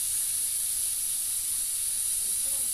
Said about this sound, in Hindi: हमारी जो विसल है वो बजना स्टार्ट हो गई है।